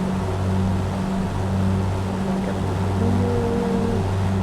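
A light aircraft's piston engine runs up steadily during a magneto check, a loud, continuous droning hum with strong low harmonics and a slight pitch shift partway through, with no voices.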